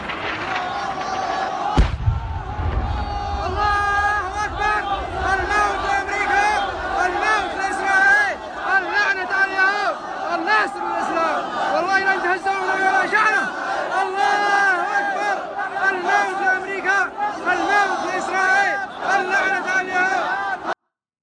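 A large crowd chants loudly in unison, with voices rising and falling in a sustained rhythmic chant that carries on without a break.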